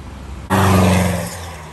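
A car speeds past along a straight town road lined with shops, rushing in suddenly as a loud, close roar and then easing off as it moves away.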